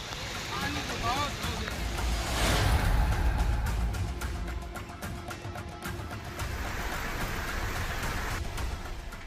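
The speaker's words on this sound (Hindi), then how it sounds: "सूरत शहर में भी शुक्रवार तड़के से ही मूसलाधार बारिश का दौर जारी है।" Torrential monsoon rain falls on a flooded street in Surat, Gujarat, a dense steady hiss with passing vehicle noise, while a voice talks over it.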